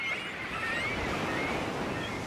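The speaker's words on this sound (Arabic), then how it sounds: "غالباً ما تهبط بها محاولاتها الأولى للطيران في الأمواج المتكسرة الخطرة" Breaking surf on a rocky coast, a continuous broad wash of wave noise with wind, steady and moderately loud without any voices.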